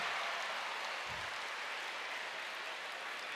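A keynote audience at a Final Fantasy XIV event cheers and applauds in a steady, dense crowd roar that holds evenly throughout, heard from a distance.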